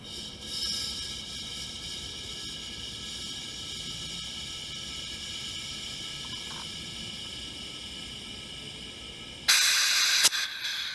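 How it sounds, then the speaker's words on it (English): Compressed air from an air compressor set around 60 psi hisses steadily into an IK Foam Pro 2+ sprayer, a long continuous hiss that ends in a sharp louder burst of escaping air. "My air compressor is set to hold like 60 psi, so it'll definitely be filling more than it's capable of"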